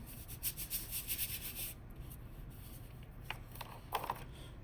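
Paper being rubbed by hand onto an inked collagraph printing plate, a faint dry rhythmic rasping that fades into soft scattered scrapes.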